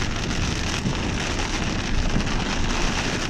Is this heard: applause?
no